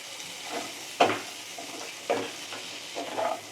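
Spices (turmeric, cumin, coriander and a pinch of Kashmiri red chilli powder) being sautéed with tomato in a pan for jackfruit curry: soft sizzling with a few distinct stirring scrapes, moderately quiet and close, no talking.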